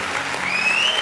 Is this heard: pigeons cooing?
no